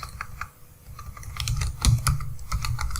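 Someone types a command on a computer keyboard, a close run of quick, uneven key clicks with short pauses and a few heavier presses.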